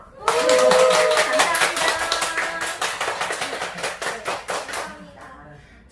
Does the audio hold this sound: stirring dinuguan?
no